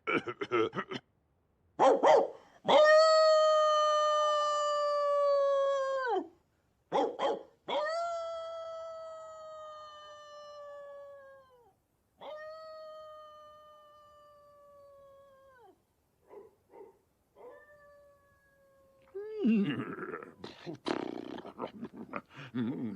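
Dogs bark and howl at night, with long wavering howls drawn out over several seconds and sharp barks between them, followed by a rougher burst of barking near the end, heard alone without talk.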